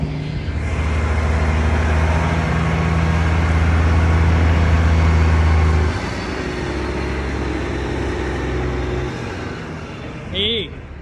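A Peterbilt 379 truck with a small power-steering leak backs in, its deep diesel engine droning loud and close before easing to a lower idle, with a brief squeak near the end.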